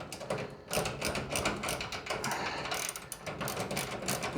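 A ratcheting wrench tightens a connection on a 600A bus bar for a bank of EG4 lithium solar batteries, giving rapid, close clicking in repeated bursts with brief pauses between strokes.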